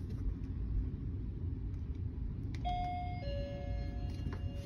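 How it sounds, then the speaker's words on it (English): A cabin doorbell on a Virgin Voyages cruise ship chimes twice, two clear electronic ding-dong tones, over a steady low rumble of ship engine noise. "You do have the doorbell, so just so you know."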